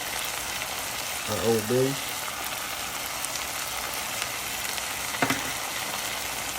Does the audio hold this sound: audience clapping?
no